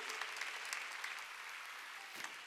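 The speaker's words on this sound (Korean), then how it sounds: "박수 치라 이거예요" Congregation applauding during a church service, a dense, steady wash of clapping from many hands sustained throughout, fairly even in level with a few sharper individual claps standing out.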